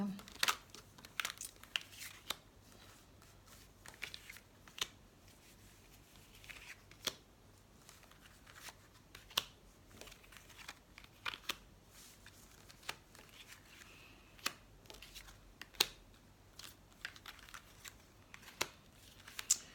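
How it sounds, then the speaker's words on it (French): Oracle cards being shuffled and drawn during a card reading, giving repeated soft papery riffles and flicks at close range that run steadily throughout with faint background noise. "Alors, on va tirer 9 cartes pour voir les messages."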